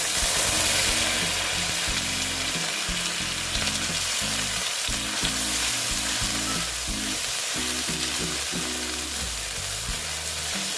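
Ginger paste going into hot oil with bay leaf, whole garam masala, dried chilli and cumin, producing a loud, steady sizzle close up, with a rhythmic low hum pulsing underneath.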